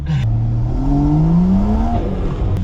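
Engine of a manual 4x4 on a rough track revving hard with turbo boost, a loud, steady rising drone that climbs in pitch and then drops back, close and continuous.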